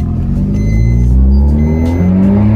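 A Maruti Swift or Baleno is pushed hard on a road test drive, its engine roaring loud and close as it revs and accelerates. The rising, steady drone carries on with no talk over it.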